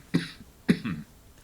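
Two quick, close coughs from a man during a cruise tips recording, about half a second apart, each a short harsh burst followed by a brief throat-clearing rasp, with quiet room tone around them.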